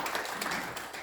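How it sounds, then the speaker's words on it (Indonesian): Steady church congregation applause with dense, continuous clapping filling the whole moment, fairly loud and even throughout. "Tepuk tangan buat Tuhan Yesus."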